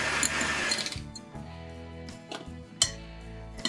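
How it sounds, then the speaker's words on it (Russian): An electric mixer whirs in short bursts while beating egg yolks with a whole egg, sugar and salt in a bowl, its motor humming with clinks of beaters against the bowl, close and clear. "К желткам добавляю куриное яйцо, сахар, соль и взбиваю миксером до пышной массы."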